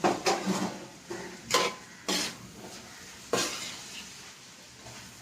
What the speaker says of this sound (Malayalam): ഇനി നമുക്കൊന്ന് ഇളക്കി നോക്കാം